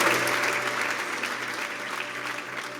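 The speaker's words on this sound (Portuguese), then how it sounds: "Vamos aplaudir Jesus bem forte" A church congregation applauds in a dense, sustained wash of clapping that fades slightly toward the end, with a low hum underneath.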